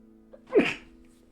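A single sharp human sneeze, close and fairly loud, bursting out once against a quiet background hum.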